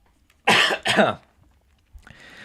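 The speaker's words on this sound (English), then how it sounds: "I have to cough" Two sharp, close coughs in quick succession, followed after a pause by a softer throat-clearing sound.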